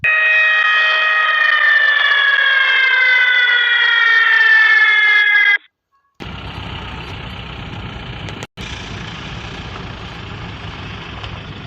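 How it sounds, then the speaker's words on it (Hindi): The third warning siren before mine blasting wails loudly and steadily for about five seconds, then cuts off. A rumbling engine-like drone follows with a brief dropout. "Third siren बजाइए।"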